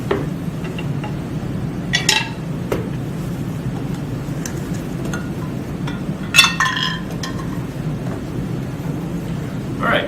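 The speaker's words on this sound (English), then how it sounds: "we are also going to add stir bars to each of these flasks." Stir bars clink against glass lab flasks filled with distilled water: two short, bright clinks a few seconds apart, near and clear over a low steady room hum.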